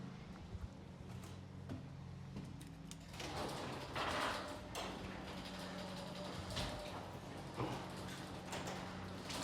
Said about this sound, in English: let me close the garage door here